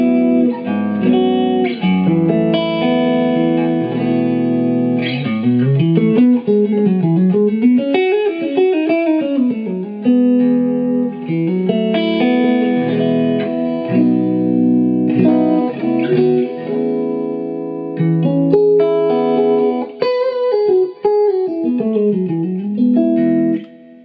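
Electric guitar played clean through a Suhr amp with an EV speaker and the treble turned down, giving bright, bold Fender-style tones; sustained chords and melodic runs ring continuously and loud, up close, with no talking.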